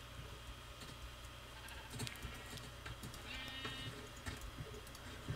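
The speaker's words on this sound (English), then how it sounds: "Wow, lots of sheep today." Sheep bleat inside a Minecraft game world, several short blocky animal calls scattered through a busy mix of game noise, fairly faint and steady without any talk.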